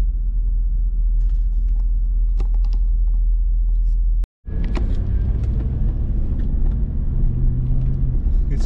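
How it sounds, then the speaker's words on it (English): Traffic on the 101 freeway overhead in Los Angeles makes a continuous heavy rumble, with a brief cut in the middle before the roar resumes. "this is the 101 freeway up above us"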